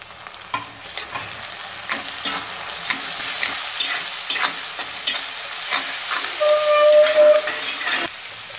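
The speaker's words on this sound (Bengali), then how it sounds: "এবার পেঁয়াজ রসুন বাটা দিয়ে নিচ্ছি আমরা" Onion-garlic paste fries in oil in a pan for a mashed pointed gourd bharta, a loud continuous sizzle and hiss with repeated stirring scrapes, and a brief thin whistling tone near the end, close up.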